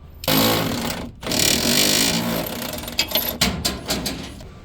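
Bolts being removed from the front bumper of a 2017-2022 Ford F250 with a power tool, giving a loud whirring, rattling burst followed by a string of shorter mechanical bursts and clicks.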